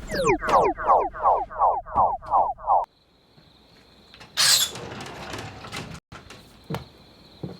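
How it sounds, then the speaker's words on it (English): A door opens with a mechanical whoosh and hum that runs under quick bursts of clatter. It follows a rapid run of loud, gobbling squawks, then a few sharp knocks. "Open the door, carrot face."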